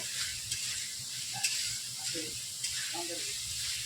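Masala for a ghee chicken curry sizzles softly in a pan while it is stirred and dried. The hiss is low and steady, with faint scraping from the spoon and a voice speaking quietly over it.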